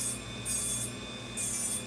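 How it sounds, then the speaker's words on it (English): Steady abrasive grinding with a high rasping hiss that surges in two bursts, a sanding disc pressed against metal, close by. "Then we're just using a regular sanding disc"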